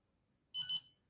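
An XP Mi-4 metal-detecting pinpointer set to program 4 gives one short, high electronic beep in two quick pulses, close and clean over a faint background hiss.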